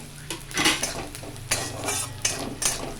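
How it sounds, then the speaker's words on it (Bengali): Black cumin seeds tempered in hot oil for a quick dal: a soft sizzle under repeated scraping and clinking of a metal spoon against the pan, close by, with no talking. "একটু আমি কালো জিরা ফোড়ন দিচ্ছি"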